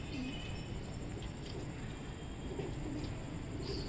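Pigeons cooing softly against a steady background hum, a few low murmuring calls scattered through the clip, faint and not very close.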